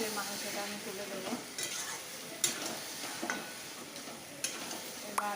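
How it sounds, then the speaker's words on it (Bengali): Mutton pieces frying in a pan of cooked spice masala for a Bengali curry, stirred steadily with a spatula; a continuous close sizzle broken by sharp scraping and clinking strokes against the pan, with no talking. "এবার আমি একটু কষে নেব।"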